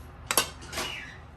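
A utensil scrapes and clinks against a bowl while boiled, salted potato filling for aloo pies is mixed, with two quick knocks and then a longer scrape, close and brief.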